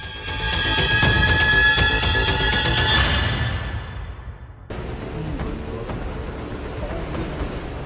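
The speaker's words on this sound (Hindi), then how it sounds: "तूफान के साथ कोलकाता में तेज बारिश भी हुई।" Heavy rain and storm wind from Cyclone Amphan lash Kolkata, a dense, loud broadband roar that fades after a few seconds before a steadier wash of rain and wind continues.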